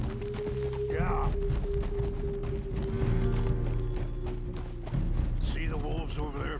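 Horse hooves clip-clop steadily during a ride in Red Dead Redemption 2, a continuous trotting rhythm under game sounds and a voice that joins partway through.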